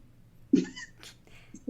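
A cat gives a short meow, then a second quieter cry, in a quiet indoor setting.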